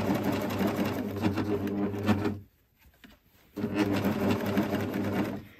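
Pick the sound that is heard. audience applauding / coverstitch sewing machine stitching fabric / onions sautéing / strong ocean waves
coverstitch sewing machine stitching fabric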